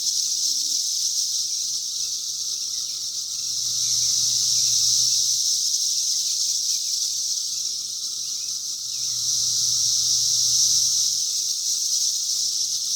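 A shrill, high-pitched cicada chorus drones continuously, swelling and fading in slow waves, with a faint low hum beneath.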